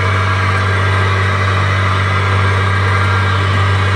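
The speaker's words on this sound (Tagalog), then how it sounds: "kung narinig nyo ay umandar na ang motor ng ating steering" A ship's steering motor, running again after a burnt panel board caused steering failure, hums loudly and continuously with a strong low drone, running evenly without pauses.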